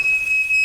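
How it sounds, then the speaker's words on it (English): A steady, piercing high electronic tone from a fire alarm, loud and continuous throughout the short moment. "Okay, that's the fire alarm."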